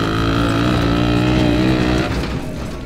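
Piaggio Ape 50 cc tuk-tuk fitted with a motorcycle engine, driving nearby with a loud, buzzing engine note that holds steady and then drops in pitch as it eases off, with no talk.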